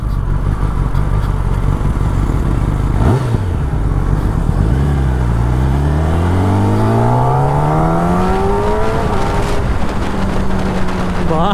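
Revving sport superbike, a ZX-10R or BMW M1000RR, on a city ride: a loud, close engine winds up through rising harmonics, drops back, then climbs again in a long sweeping rev that runs for most of the stretch.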